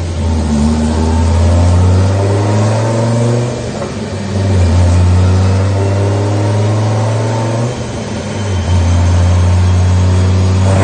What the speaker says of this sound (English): Dodge Viper.